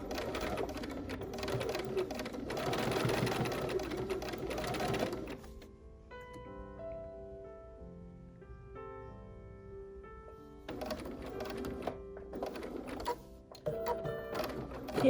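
Sewing machine stitching a fabric pumpkin trivet, a close, steady mechanical whir running in bursts with a pause in the middle while music plays softly underneath.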